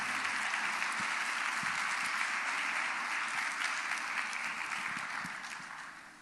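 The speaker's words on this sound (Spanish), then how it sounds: "denle un aplauso bien fuerte al Señor" A Spanish-speaking church congregation gives loud, sustained applause to the Lord. The dense, even clapping fills the room for about six seconds and fades slightly at the end.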